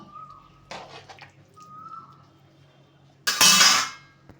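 A thick paste of ground mustard and poppy seeds is stirred in a cooking pan, giving a couple of short scraping, clinking strokes followed by a louder, rougher scrape near the end, over a quiet kitchen background.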